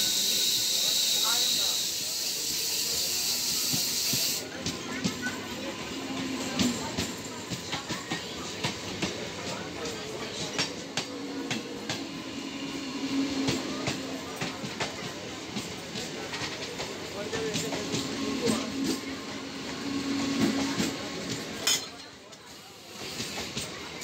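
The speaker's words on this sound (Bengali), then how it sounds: "আরামবাগ থেকে হাওড়াগামী ট্রেন ছেড়ে যাচ্ছে।" A local train departs Arambagh station for Howrah with a loud hiss at the start, then rumbling, rattling carriages and clicking wheels roll on steadily, with voices murmuring in the background.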